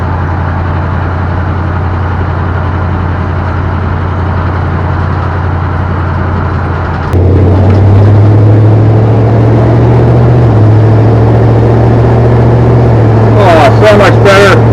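A 1958 Plymouth Suburban two-door wagon drives with a steady, loud engine drone that shifts to a rougher, heavier rumble partway through, heard close and continuous with no talk.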